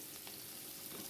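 Chopped onions frying in hot oil with spices, a steady close sizzle with faint crackles and no voices.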